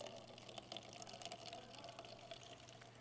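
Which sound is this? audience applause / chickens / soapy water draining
soapy water draining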